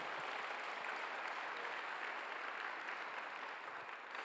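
A church congregation at a Korean Sunday worship service claps together in a dense, continuous round of applause that holds steady throughout and fades slightly at the end, with no speech over it.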